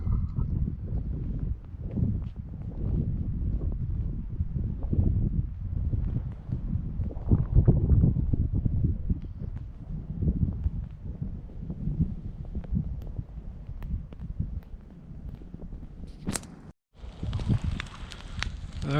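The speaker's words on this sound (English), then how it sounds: "wind's starting to pick up again" Wind gusts rumble and buffet over a winter campsite at night, a continuous low roar with uneven surges, briefly cutting out near the end before resuming.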